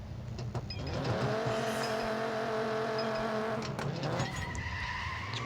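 Race car engine in NFS No Limits revving hard with tire skids, a sustained loud whine holding and climbing in pitch across several seconds, alone with no talk.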